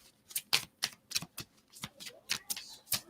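A tarot deck being reshuffled by hand gives a quick series of sharp, papery card snaps and riffles in irregular bursts, close and fairly quiet with no talking.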